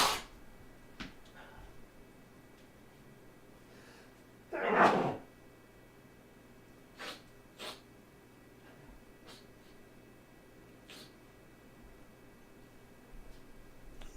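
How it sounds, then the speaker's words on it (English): One muffled sneeze bursts out a little way from the microphone in an otherwise quiet room, followed by a few faint clicks and shuffles. "I had to sneeze, had to step to the side."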